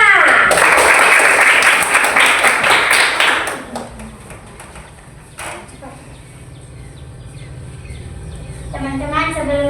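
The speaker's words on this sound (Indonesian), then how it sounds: "Tepuk tangan." A class of children claps for two classmates in loud, dense applause that fades after a few seconds, giving way to quieter room noise, scattered taps and voices talking.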